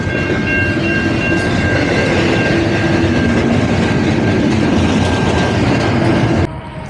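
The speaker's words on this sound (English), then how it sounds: "getting stuck at a train crossing" A train rumbles loudly past a railroad crossing at close range, steady clatter of wheels on rails, then cuts off abruptly near the end.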